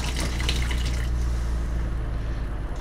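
Water runs steadily from a caravan tap, a close, continuous rushing gush that stays loud and unbroken with no talking.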